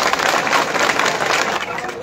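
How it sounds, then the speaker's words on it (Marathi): A crowd at a young sugarcane farmers' protest at Parbhani Phata in Majalgaon breaks into a dense, steady patter of clapping that keeps going without a break and stays fairly loud throughout. "सर्वांनी त्यांच्यासाठी आता जोरदार टाळ्यांचा कडकडाट होऊन जाऊ द्या"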